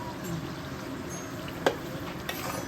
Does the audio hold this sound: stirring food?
yes